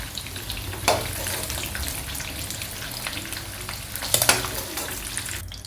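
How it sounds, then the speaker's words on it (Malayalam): Chicken pieces fry in oil for a Manjali chicken biryani, a steady close sizzle and crackle with a few louder spatters as the pieces are stirred, no voices over it. "ഈ ഒരു പരുവത്തിൽ വേവിച്ച് ഫ്രൈ ചെയ്തെടുത്താൽ മതി"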